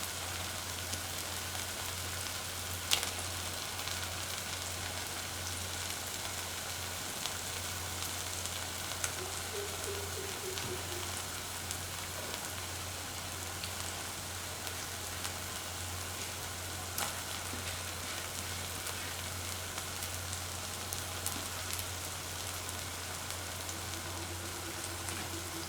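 A ground cashew and shallot onion paste fries in hot oil for an okra stew, a soft, steady sizzle and crackle that runs without break, faint and alone with no talk.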